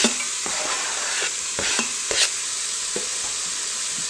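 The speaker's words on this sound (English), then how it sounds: "And we're going to give it a stir." A spoon stirs onions, carrots, celery and shallots sautéing in an Instant Pot, with repeated scraping strokes and clacks over a continuous close sizzle, free of speech.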